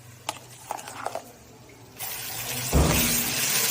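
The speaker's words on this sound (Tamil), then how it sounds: "50 கிராம் புளிக்கரசலை ஊத்திக்கலாம்." Tamarind extract poured into a cooking pot with ground onion paste and sesame oil, a short pouring splash that settles into a steady, close liquid rush and sizzle after a few light clinks.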